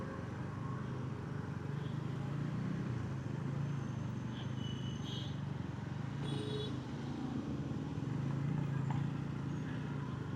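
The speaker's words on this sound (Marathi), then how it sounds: "आज बऱ्यापैकी ट्रॅफिक आहे." Steady roadway traffic rumbles around a rider on a Bajaj N160 motorcycle heading through town, a continuous broadband engine and tyre wash with a few faint higher tones, and no one talking.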